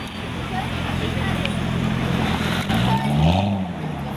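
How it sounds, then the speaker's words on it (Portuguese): A yellow Chevrolet Corvette C6 with a V8 engine rumbles at a public square event, its low engine tone rising near the end over steady outdoor crowd and traffic background. "Chevrolet Corvette C6"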